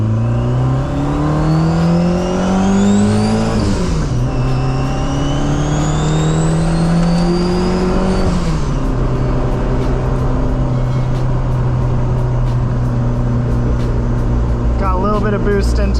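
Compound-turbo DSM car accelerating under boost, the engine note climbing loud and close through two gear pulls, then holding a steady drone, with turbo whine riding on top and a voice briefly over it.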